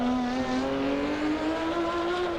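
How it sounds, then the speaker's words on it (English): Porsche 917K short-tail race car, the 1970 Le Mans winner, drives past at a steady loud engine note with a faint rise in pitch over a couple of seconds, heard alone with no talk. "move on to another icon of sports car racing from that era. It's the Porsche 917K."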